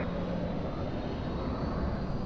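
An airliner rolling for takeoff on runway 02 at Lisbon Airport, a loud, steady broadband engine roar with a faint tonal whine on top, continuous and close, with no voices.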